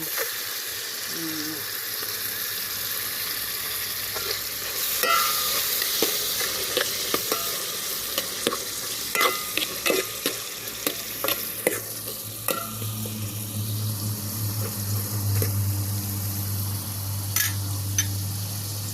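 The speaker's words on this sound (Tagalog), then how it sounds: "Tapos ilalagay na po natin ang lukan." Lokan clams go into a sizzling pan of sotanghon with shrimp and crab. Steady frying hiss runs throughout under repeated clattering scrapes and clicks of stirring, with the sizzle swelling louder near the end.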